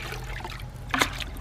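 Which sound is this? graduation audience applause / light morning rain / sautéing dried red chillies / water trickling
water trickling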